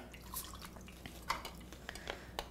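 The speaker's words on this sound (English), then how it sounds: "So pour that right in here." Alcohol being poured into a glass while mixing a drink, with faint dripping and trickling liquid sounds, soft splashes and small clinks close by in a quiet room.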